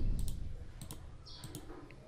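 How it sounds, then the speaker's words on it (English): Computer mouse clicks while adjusting Windows folder settings, a few quick, light clicks near and in short bursts against a quiet background. "click on apply"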